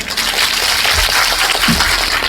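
Audience clapping for the chief minister at a party meeting in Assam, a steady wash of many hands applauding at moderate loudness, continuous and without voices.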